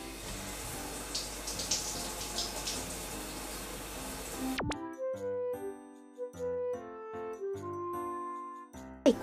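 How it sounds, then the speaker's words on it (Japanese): Shower water runs in a steady hiss for several seconds, close and fairly quiet, then cuts off as soft piano music takes over. "今度こそシャワーに入ります。"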